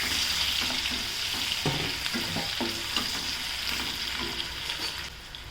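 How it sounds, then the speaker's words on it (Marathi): Onion frying with green chilli and spices in a pan for a dhaba-style rajma masala curry, a steady close sizzle with intermittent scraping and stirring clatter, no talk. "कांदा घालायचा, कांद्याला चांगलं परतून घ्यायचं."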